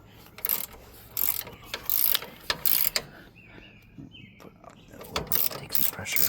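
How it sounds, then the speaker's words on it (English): A ratcheting wrench tightens bolts on a DR brush cutter being assembled, giving short clicking ratchet bursts in uneven runs with pauses between, close and fairly quiet, with a faint bird call in the background. "best to hand tighten when you're using these ratcheting style wrenches"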